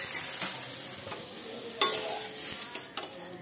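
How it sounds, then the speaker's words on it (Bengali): Eggplant pieces frying in a pan, a low close sizzle with a few sharp spatula clinks and stirring scrapes. "বেগুনগুলো আমার ভাজা হয়ে গেছে"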